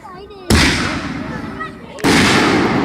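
A Black Panther aerial shell by Top Gun bursts at a fireworks shell demo, giving a sudden loud boom, a sustained crackling, hissing spread, then a second sharp burst near the end. Voices are faintly heard before the first bang.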